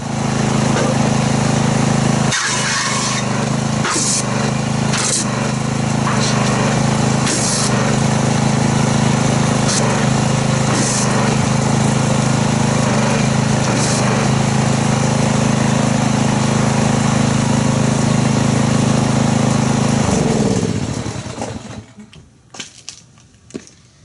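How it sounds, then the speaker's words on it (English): A pressure washer runs to foam Chemical Guys car wash soap, its loud, steady engine drone holding for about twenty seconds before cutting off, leaving a few faint clatters. "we'll get our pressure washer, stick it in there and see how it foams."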